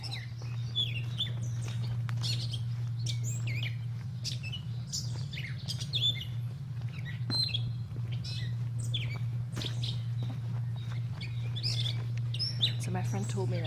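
Many birds chirp and tweet in a wooded stretch along the Appalachian Trail on a mountain, with a steady low hum running beneath the busy, overlapping calls throughout.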